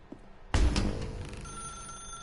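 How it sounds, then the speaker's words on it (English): Telephone ringing inside a dark room in the video game The Stanley Parable, a sudden loud electronic bell burst that rings on steadily and slowly fades, with no talk over it. "Now pick up the phone"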